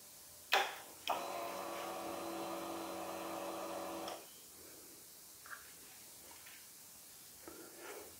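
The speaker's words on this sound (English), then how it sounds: "Give the pump a couple of primes." A Yamaha Tenere 700 fuel pump primes in a quiet garage: a short click, then a steady electric whir that runs for about three seconds and stops, followed by faint small clicks.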